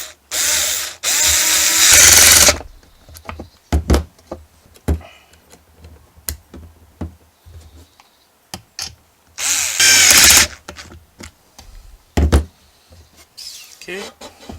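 Short bursts of a power drill driving screws into a Losi 5ive T RC car parts kit build, loud whirring spurts separated by clicks and handling noises, with quiet gaps between.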